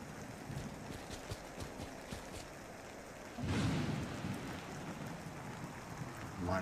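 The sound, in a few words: rain at night in a video game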